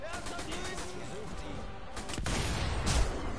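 Gunfire in the sniper shooter Sniper Hell Remastered, a cluster of loud close shots with a heavier boom near the end, under voices talking over co-op play.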